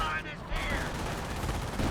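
Gunfire from an MG42 machine gun in Company of Heroes 1, a dense, sustained burst of battle noise that runs through the whole moment at steady loudness, with a voice speaking over the shooting.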